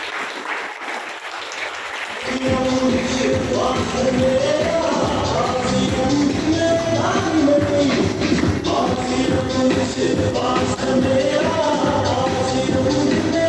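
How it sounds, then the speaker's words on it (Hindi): Audience applause at a motivational seminar as a guest is welcomed on stage, dense clapping bursting in after a couple of seconds and continuing steadily and loudly over background music with little talk. "जोरदार ताली"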